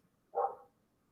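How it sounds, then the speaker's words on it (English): A neighbouring dog lets out a single short bark, somewhat distant and moderately loud, followed by a quiet background. "Did I just hear that dog bark? It's the dog next door."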